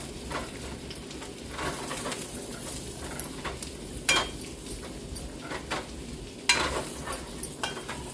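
Chili powder stirred into a dried-fish curry in a pot: a low simmering sizzle with intermittent scraping stirs and spoon knocks, while birds coo faintly in the background.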